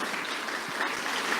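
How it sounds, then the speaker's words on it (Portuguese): A church congregation applauds together in dense, steady clapping that fills the space evenly, a sustained wash of many hands at close-to-mid distance with no talking over it. "Uma salva de palmas ao nosso Deus"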